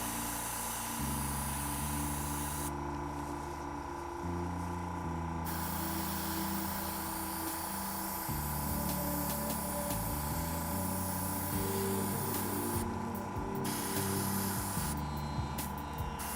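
An airbrush spraying paint onto a miniature, a continuous close hiss over a steady mechanical hum with low droning tones, the spray bursts starting and stopping at intervals.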